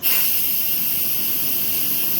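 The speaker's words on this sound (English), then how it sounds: "I usually put on the fan" A kitchen stove extractor fan runs steadily throughout, a loud, close, continuous airy rush with no talk over it.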